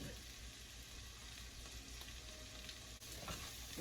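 Onions sauté in hot sausage oil for Southern fried cabbage, a steady, dense sizzle close up with a brief scrape of stirring partway through.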